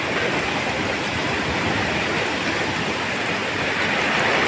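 Wind and rain from Cyclone Dana roar steadily outside, a loud, unbroken whooshing wash of heavy rainfall and gusts that fills the scene for several seconds without letup or voices.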